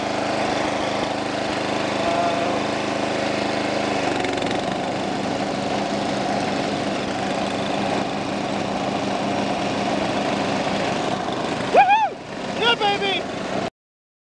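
A riding lawn mower engine drones steadily and loudly throughout, its pitch shifting midway, with a brief burst of voices near the end before it cuts off.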